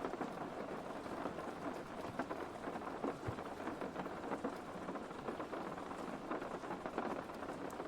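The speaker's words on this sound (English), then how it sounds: "I just have rain going." Steady rain pattering densely on a surface, a continuous hissing downpour with small scattered drops, no voices.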